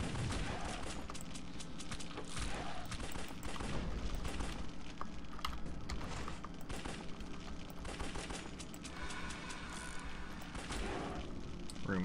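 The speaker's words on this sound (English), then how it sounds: "Dual wield pistols." Dual-wielded pistols in the Larva Mortus video game fire in a dense, continuous barrage of rapid shots. The shots are layered over a busy, loud game soundscape and run for the whole stretch.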